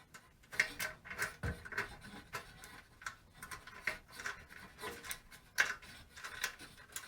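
Machine screws being tightened with a screwdriver during assembly of a Teenage Engineering Pocket Operator Modular POM400, heard as soft, close, rhythmic rubbing and ticking turns with short gaps between.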